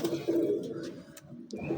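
Pigeon cooing, from a plain flying-type pigeon, comes as soft, low, continuous throaty coos close by, with faint brief chirps above them.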